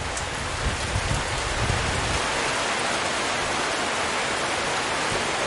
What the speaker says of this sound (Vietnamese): Ở ngoài đang trời mưa to mọi người ạ.